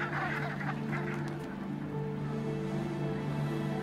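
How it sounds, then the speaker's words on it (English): A large flock of Brent geese on the autumn tundra honks continuously, many overlapping calls forming a dense, steady chorus at moderate distance, with no talk. "Brent geese are gathering in large flocks, ready to fly south."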